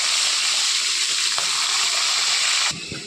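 Onions and green chillies frying in a pan, a steady broadband sizzle with faint stirring clicks, close and loud, cutting off abruptly near the end.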